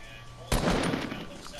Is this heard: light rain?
no